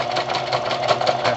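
Sewing machine stitching through a handmade gratitude journal, a rapid, steady mechanical chatter of needle strokes running continuously at close range.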